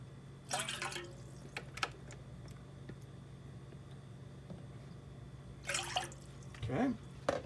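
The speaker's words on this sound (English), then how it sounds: "we're going to put 1 cup of vinegar" White vinegar is poured for pickled eggs in two short, close splashing pours separated by a quiet pause.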